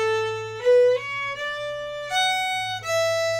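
A solo melodic instrument plays the opening phrase of a polka, five or six sustained notes stepping upward with clear, close tone and no voices.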